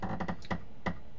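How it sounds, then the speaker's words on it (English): Computer mouse clicks close to the microphone: a quick run of crisp taps, then two separate sharp clicks spaced apart, with no talking. "So if you notice this, I'm double clicking."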